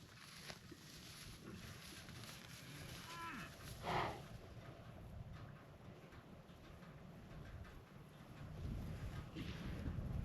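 Cattle on a South Dakota ranch pasture near a creek give a faint, distant moo or two over steady wind buffeting the microphone.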